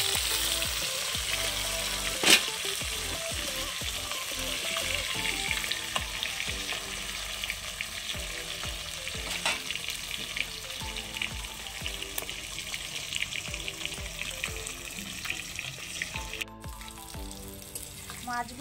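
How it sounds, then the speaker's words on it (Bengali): Chela fish sizzle steadily in hot oil in a pan, a continuous close frying hiss with occasional stirring scrapes and a few sharper clicks, running without talk. "এবার আমি মাছগুলোকে একবার উল্টে দেবো। মাছগুলো এক পিঠ ভাজা ভাজা হয়ে গেছে"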